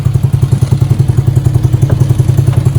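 Small engine of a Venom Motorsports mini jeep idling after its first start, a steady close thumping putter with an even, rapid beat and no voices.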